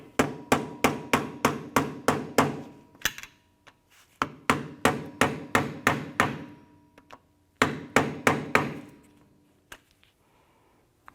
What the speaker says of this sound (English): use a flathead screwdriver and just pry up this lock tab a little bit